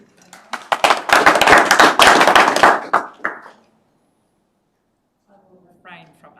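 Clapping from the audience at an extraordinary council meeting, a dense close burst of many hands lasting about three seconds that quickly dies away, followed by silence and then a speaking voice.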